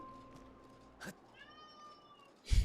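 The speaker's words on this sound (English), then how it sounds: "Not a happy cat." A cat meows and yowls nearby, a drawn-out complaining cry followed by a sharper loud yowl at the end, over faint background noise.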